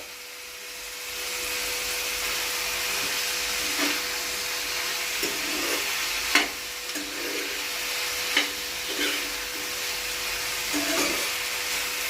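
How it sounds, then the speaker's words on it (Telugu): Soaked peas frying in oil in a pan, a steady soft sizzle with occasional stirring scrapes and clicks, close and moderately quiet. "అవి కూడా వేపుకోవాలి, నానబెట్టిన బఠానీలు."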